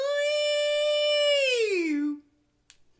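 A single voice imitates a blown penny whistle toy, holding a clear pure tone that slides smoothly in pitch before cutting off, close and solo, followed by a faint click.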